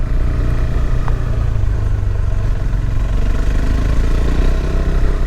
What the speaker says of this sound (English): although it's a short throw engine, it's a single cylinder, it's tractoring up here nicely